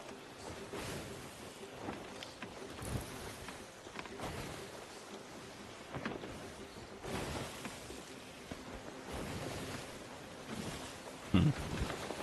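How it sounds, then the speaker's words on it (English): Stormy seas in the pirate game Sea of Thieves: steady rain and rolling wind noise with low thunder rumbles building through, and a sharp crack near the end, no talking. "The waves are getting high, which means a storm is a brewing."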